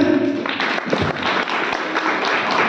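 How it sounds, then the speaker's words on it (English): Applause for singers at a music lecture session, a steady burst of clapping from an audience, fairly loud and close throughout. "Give a big clap to them."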